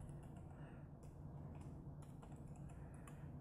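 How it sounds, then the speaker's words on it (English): Steady clicking of keys on a computer keyboard while entering a label in PLC programming software, rapid and fairly close, over a low constant hum. "We're going to type auto mode."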